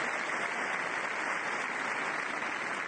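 Thousands of people clap during the silent Republican march in Paris, making a dense, steady roar of applause from a vast crowd that holds evenly throughout, with no speech.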